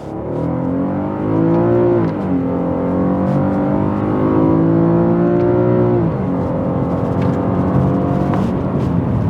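A car engine revs hard to 7,600 RPM with rev-matched downshifts, its note climbing steadily, dropping at each gear change and rising again. It is loud and close, with no talk.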